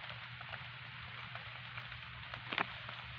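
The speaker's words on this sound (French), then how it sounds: "Je sors presque dans la nuit et il pleut." Rain falls outdoors at night as a faint, steady hiss of drops, continuous throughout, with one brief sharper knock near the end and no talking.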